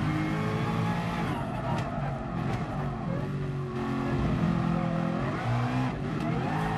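A 1992 Nissan R92CP race car in GT Sport at Le Mans, its engine roaring loud and steady at high revs with brief shifts in pitch as it drives flat out, no talk.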